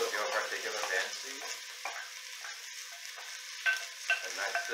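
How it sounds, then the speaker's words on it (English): Vegetables sizzle and crackle in olive oil in a hot pan while being stirred, a soft continuous frying hiss with occasional scraping. "A nice sizzling action right after that."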